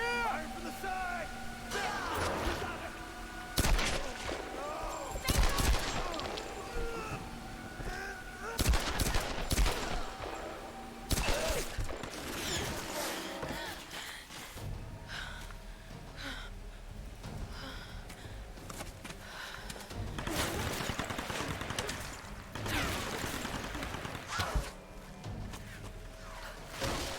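Gunfire in Tomb Raider 2013, with repeated bursts of shots and automatic volleys at close and middle distance, broken by short lulls, mixed with breathing and game effects.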